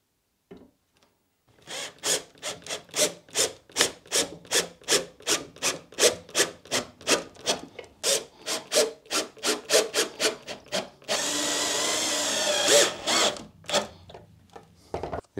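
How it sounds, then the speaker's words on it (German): Desk parts being screwed together by hand during a home-built desk assembly: a long run of regular rasping, ratcheting strokes, close and loud, followed by a few seconds of steady grinding or rubbing before the last strokes. "Und kann das dann festschrauben."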